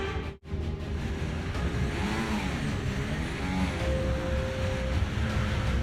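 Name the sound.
F1 car engine in racing video game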